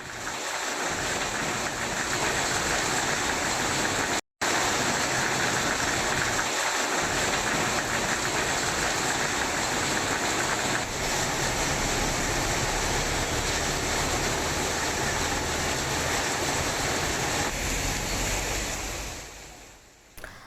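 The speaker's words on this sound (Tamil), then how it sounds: "காஞ்சிபுரம் மாவட்டம் ஸ்ரீபெரும்புதூர் சுற்றுவட்டார பகுதியில் கனமழை கொட்டி தீர்த்தது." Heavy rain pours down around Sriperumbudur in Kanchipuram district, a loud, steady, unbroken hiss of downpour, briefly cut by one short silent gap, with no voices.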